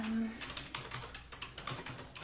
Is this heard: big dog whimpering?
no